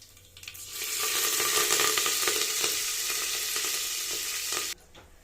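Cumin seeds and curry leaves hit hot oil with a loud, steady crackling sizzle that flares up within the first second, holds busily throughout and cuts off abruptly near the end, with no voices.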